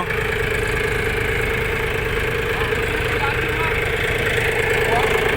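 A Shifeng CL mini tractor engine runs steadily at close range, a continuous loud idling drone with a knocking diesel rhythm and a faint voice in the background.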